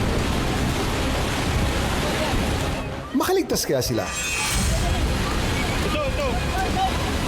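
The swollen Astorga River in Tunga, Leyte, rages past a bridge in a loud, steady roar of rushing water, briefly broken by someone speaking mid-clip.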